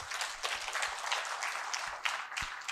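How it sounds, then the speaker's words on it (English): Fairly faint audience clapping during a lecture-style presentation on India, scattered hand claps with a few sharper individual hits, sustained for a few seconds without speech. "Please clap."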